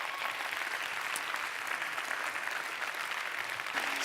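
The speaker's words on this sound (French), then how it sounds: "on l'applaudit une fois de plus" Theatre audience applauding a contestant at a regional science-talk final, continuous dense clapping from a full hall at steady volume for the whole stretch.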